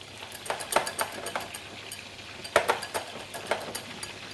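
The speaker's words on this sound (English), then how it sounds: "We're going to slowly mix the flour and the water." A utensil scrapes and taps against a bowl of thick flour-and-water batter in an irregular rhythm, soft wet clicks of mixing up close.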